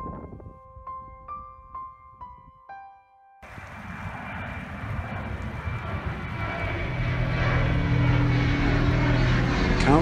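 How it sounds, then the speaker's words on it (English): An airplane flies over a cemetery memorial portal in North Hollywood. After a brief quiet opening with faint tones, a broad roar rises and swells steadily for several seconds, growing louder and nearer as the aircraft passes overhead. "airplanes of all types, both large and small, fly over this portal"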